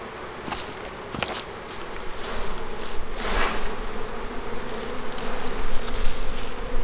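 Dense, continuous buzzing of many honeybees close by at a hive with new comb, a steady drone that grows slightly louder, with occasional soft knocks and no talking.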